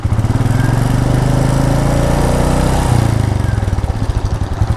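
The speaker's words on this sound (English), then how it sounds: "Okay, when you start the motorcycle," A 2020 Royal Enfield Meteor 350 BS6 single-cylinder motorcycle engine fires up and settles into a steady, loud thumping idle close by, with a slight shift in tone partway through.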